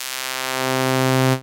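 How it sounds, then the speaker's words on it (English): Synthesizer tone in Reason's Europa shaped by a subtractive high-pass filter, a steady buzzy note with strong harmonics held for just over a second before cutting off abruptly, alone with no talk. "all of our low frequencies are being cut off with a high-pass filter"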